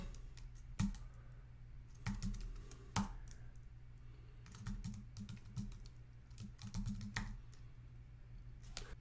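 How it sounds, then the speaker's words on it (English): Keys clatter on a computer keyboard as a password is typed, in short bursts of clicks separated by pauses, fairly close and moderately loud over a low steady hum, with no talking. "I'm going to type it in."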